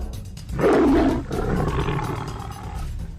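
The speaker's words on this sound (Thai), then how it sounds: "ฝ่ายสมิงก็คำรามลั่นไม่หวั่นเกรง" A tiger lets out a loud, forceful roar that bursts in suddenly, then trails off into a rough, rumbling growl. No speech.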